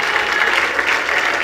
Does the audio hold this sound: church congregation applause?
yes